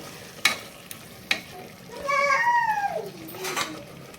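Tomato paste frying in a pan for kuska rice sizzles quietly under two sharp spoon taps, and a cat meows clearly partway through before the stirring continues.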